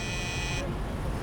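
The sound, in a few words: apartment door buzzer in video game Beat Cop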